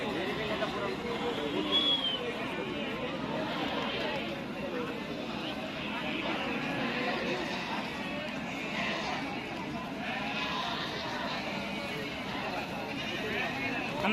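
Goats bleat at the busy Gangadhara animal market, several calls rising over a constant babble of crowd chatter and nearby voices.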